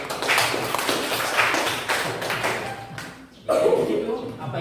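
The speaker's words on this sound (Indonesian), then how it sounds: "Berikan aplaus untuk." Classroom audience clapping during a guidance-counselling lesson, a dense patter of many hands that continues steadily, briefly dips, then surges again.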